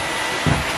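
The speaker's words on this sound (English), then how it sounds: "We want to blow dry it." Hair dryer blow drying a curly wig, a steady close whooshing roar with a brief shift in tone as the airflow moves.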